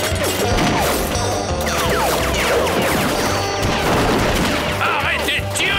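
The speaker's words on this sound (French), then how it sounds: "Arrêtez de tirer, abruti, arrêtez!" Loud, chaotic cartoon gunfire and crashing clatter from a Lucky Luke western scene, dense rapid shots with whistling ricochets piling up continuously.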